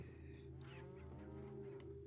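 A cow in the video game Resident Evil 4 gives one drawn-out, loud moo up close, alone over a low steady game background.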